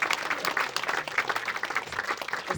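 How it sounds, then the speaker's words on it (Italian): Lively, continuous applause from an Italian audience honouring Mayor Volpe at a concert event, many hands clapping densely and close at a fairly steady level. "Un applauso al sindaco Volpe."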